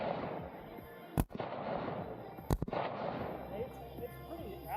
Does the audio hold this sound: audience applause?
no